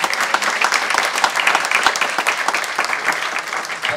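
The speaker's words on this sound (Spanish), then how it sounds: "Dá um forte aplauso." A church congregation claps steadily in loud, sustained applause that fills the whole stretch, with no one speaking.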